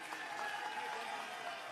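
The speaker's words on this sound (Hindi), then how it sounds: "तो एक बार जोरदार ताली बजा दीजिए इनके लिए।" A crowd claps at a political gathering in Delhi, steady dense applause filling the short moment at moderate volume without pauses.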